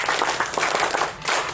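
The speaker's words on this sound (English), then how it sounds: "One clap, two claps," Group at a running club clapping together in short bursts, dense and close, like a crowd of hands clapping in loose rhythm.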